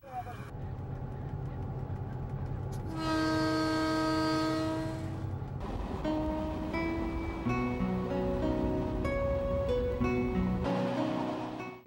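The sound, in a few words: diesel train running on railway tracks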